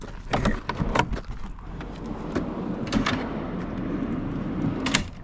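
A homemade drawer slides in and out of a carpeted storage box built in the back of a 2023 Chevrolet Suburban, giving several close clunks and rubbing scrapes over about five seconds.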